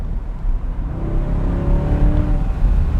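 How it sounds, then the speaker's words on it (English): A 2024 Chevrolet Corvette C8 Stingray 3LT, a two-door mid-engine V8 car, driving with a steady low engine drone and a faint rising whine, heard alone and continuously. "it's a two-door mid-engine V8 supercar"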